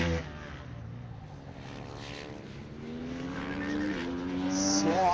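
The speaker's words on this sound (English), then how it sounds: "Sliding the bikes, you hear them in the background, of just pushing themselves that little bit harder, locking up the brakes" Racing bikes at a Formula K event slide as riders lock up their brakes, the engine notes rising and whining with skidding squeals in the background, growing louder over several seconds with no talk.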